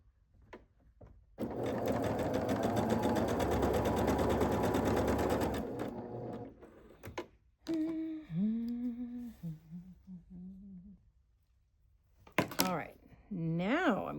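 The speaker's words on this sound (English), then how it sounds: "So I'm going to sew these 2 rows together." A sewing machine stitches two quilt block rows together in a steady, fairly loud run of about four seconds, followed by handling clunks and someone speaking afterward.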